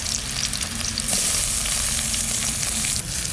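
Crushed garlic and onion frying loudly in mustard oil for a village-style vegetarian pointed gourd dish, a dense close sizzle with stirring scrapes throughout, no talk.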